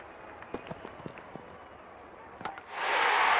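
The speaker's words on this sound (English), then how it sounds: "Crowd is going crazy." In the cricket video game Real Cricket 20, a quiet stadium murmur with a few soft pops suddenly swells into a loud roar of cheering crowd noise for the final second.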